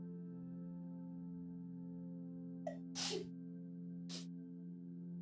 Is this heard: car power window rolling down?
no